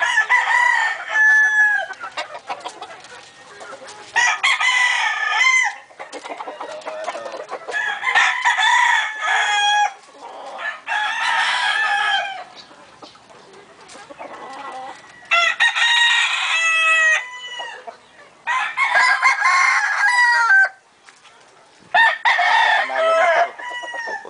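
Gamecock stags at a cockfighting yard in Caoayan, Ilocos Sur crow again and again in loud, close, repeated calls with brief clucks between them, and no talk over them.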